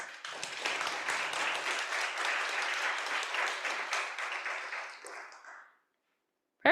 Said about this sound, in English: let's wish all of our presenters good luck with a nice round of applause